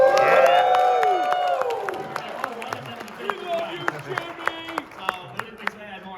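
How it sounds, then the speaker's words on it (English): Event audience at a PAX East Nintendo Labo panel gives a burst of loud cheering and whooping for contestants, then settles into scattered rhythmic clapping that gradually thins out. "one more cheer for our contestants"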